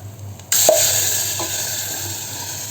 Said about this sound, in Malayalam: ആ തക്കാളി വെള്ളത്തോടു കൂടി നമുക്കിതിലേക്ക് ചേർത്ത് കൊടുക്കാം